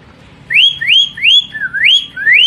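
A rising, slurred whistle repeated five or six times in quick bursts, imitating a green leafbird's song, clear and close with no talking.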